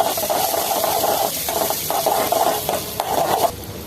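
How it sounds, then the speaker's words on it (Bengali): Onions hit hot oil in a pan while cooking piyaju, giving a loud, continuous sizzle broken by brief stirring and scraping sounds, close up with no talking. "তেলটা গরম হয়ে গেছে, এবার আমি পেঁয়াজগুলো দিয়ে দেব।"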